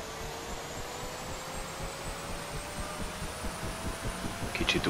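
A Huey helicopter turbine spins up during engine start in the DCS World simulator, a steady whining hum that rises gradually in pitch and grows louder toward the end.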